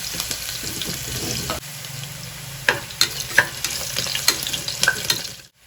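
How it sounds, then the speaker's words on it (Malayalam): Crushed ginger and garlic fry in a pan for a Malayalam-style masala rice and crab curry, giving a steady close sizzle with scattered sharp stirring clicks and taps that fade out at the end. "അങ്ങനെ ഇഞ്ചിയും വെളുത്തുള്ളിയും ഏകദേശം ഒന്ന് മൂത്ത് വന്നിട്ടുണ്ട്"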